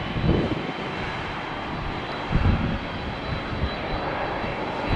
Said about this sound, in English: Oh, it's heavy jet time in the cafeteria here at TPA, FedEx